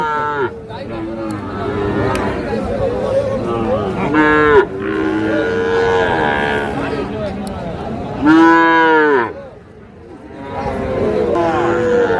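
Sahiwal cattle on a farm give several long, loud moos at close range, with a crowd murmuring and chattering in the background throughout.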